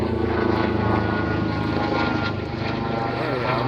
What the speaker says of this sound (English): Yeah, that's a Lifestar helicopter